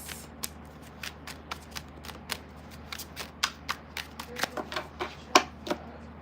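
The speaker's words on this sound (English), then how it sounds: "I'm going to do 3 more shuffles." Rapid riffle shuffles of a tarot deck, a series of sharp papery bursts at a fairly steady pace, close by, over a faint low hum.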